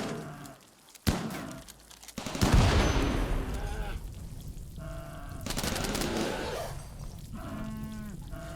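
Turret gunfire in the game RimWorld crackles in sharp bursts and a sustained volley, with a sudden crack near the start and noisy rattling fire trailing off amid other game sounds.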